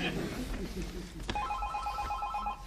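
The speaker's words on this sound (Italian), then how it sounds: "Sta squillando." A telephone rings faintly in a stage play, a repeated electronic trill starting partway through and sitting under room noise and a voice.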